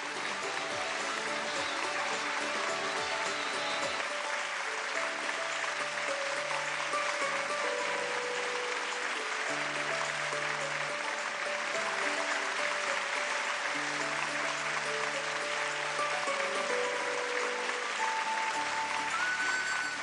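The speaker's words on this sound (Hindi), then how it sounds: "जोरदार तालियां।" Broad, sustained clapping from a studio audience on an Indian television singing competition, continuous and fairly distant, with background music tones running underneath.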